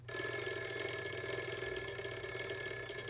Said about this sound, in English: most people have an alarm clock that sounds like this